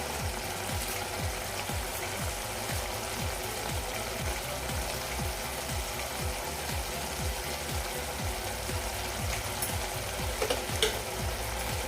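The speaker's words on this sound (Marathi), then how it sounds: "पुन्हा एकदा मिक्स करून घेऊया" A spatula scrapes and stirs dry Agri-style bombil bhaji with chopped coriander in a pan, a steady run of rhythmic scraping strokes over a faint sizzle, close and fairly quiet.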